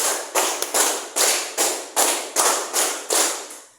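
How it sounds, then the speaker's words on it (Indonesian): Classroom group claps together in a clapping game, a run of about eight firm, evenly spaced claps, close and loud, with a brief doubled clap early on and no voices. "Oke, tepuk 3 kali."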